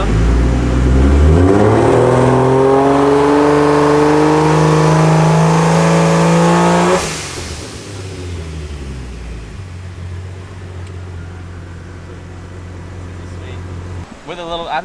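A Barra-engined Ford Mustang GT350 on a drag strip revs hard against the trans brake, rising and holding a loud, steady engine howl for about seven seconds before dropping to a lumpy idle, with people talking nearby.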